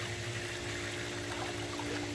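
Diatomaceous earth powder being poured into a pool skimmer, heard as a steady, soft watery trickle and rush of circulating water alongside a constant low pump hum, fairly quiet and continuous with no talking.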